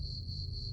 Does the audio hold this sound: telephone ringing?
no